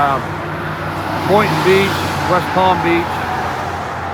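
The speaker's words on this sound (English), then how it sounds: "I do apologize for the road noise of the traffic." Road traffic hums and rumbles steadily across a bridge in Sarasota, a continuous mid-level wash of passing vehicles under a man's nearby speech.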